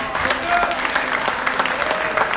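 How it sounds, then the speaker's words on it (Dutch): Audience applause at an evening event of the SOR development foundation in Utrecht, steady clapping filling the room throughout without pause. "Geef een applaus, Bushra en Lili."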